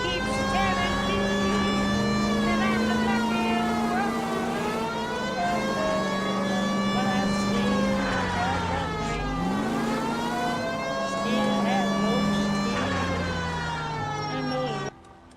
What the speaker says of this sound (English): We've got a siren for a reason.